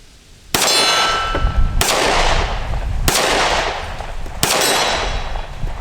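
Four sharp, ringing shots from a Taurus GX4 pistol at a range, evenly spaced about a second apart, loud and close, each with a metallic clang and a lingering decay.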